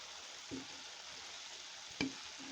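Pumpkin and green chillies fry in a pan with a steady, quiet sizzle, broken by two brief scrapes or stirs; no one speaks.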